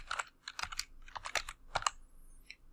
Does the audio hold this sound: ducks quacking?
no